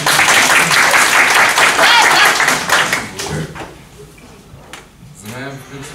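Seminar audience applauding, a loud burst of clapping for about three seconds that fades out quickly, followed by scattered voices and talk.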